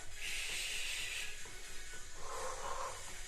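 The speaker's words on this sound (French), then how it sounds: "Allez, exagère ta respiration." Exaggerated heavy breathing during a cardio workout, forceful hissing breaths in and out heard close to the microphone, continuous and airy with a slight shift in tone partway through.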